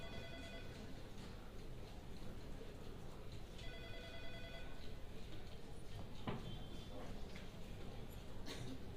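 An unanswered telephone rings in a Chinese TV drama scene, its trilling rings repeating in bursts over a noisy indoor room tone, with a brief knock partway through.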